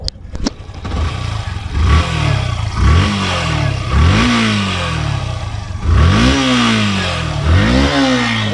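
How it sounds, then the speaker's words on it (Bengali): A second-hand Yamaha FZS motorcycle starts up and idles close by, then is revved about six times in a row. Each throttle blip swells and falls back to a rough, clattering idle, and there is no talk over it. "আচ্ছা, একটু স্টার্ট করেন, ইঞ্জিন সাউন্ডটা একটু শুনব।"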